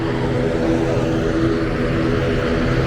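An Aer Lingus airliner taking off from the runway, a loud, steady, broadband engine roar that fills the whole moment without a break, heard from nearby at an airport.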